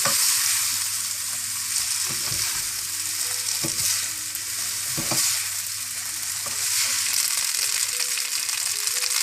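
Noodles for vegetarian Hakka noodles are tossed in a sizzling pan with two spoons, a loud continuous frying hiss broken by repeated clattering spoon knocks and scrapes, no talking.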